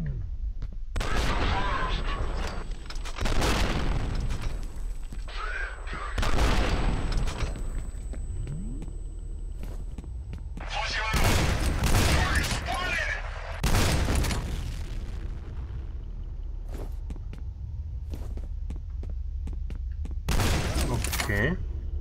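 Loud bursts of weapon fire in the shooter game F.E.A.R., recurring in several heavy volleys with booming impacts and quieter gaps between them, with someone talking in the pauses.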